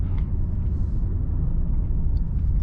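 Deep, steady engine rumble from a 2026 Mercedes-AMG GT 63 PRO just after start-up, a loud continuous low drone heard alone without talk.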